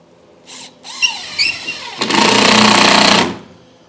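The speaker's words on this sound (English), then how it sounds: "I'm screwing these down just so I can take it apart" A cordless power drill drives screws through greenhouse wall panels into studs on 2-foot spacing, with a couple of short whirring squeals followed by one sustained, loud, close drilling burst of about a second and a half.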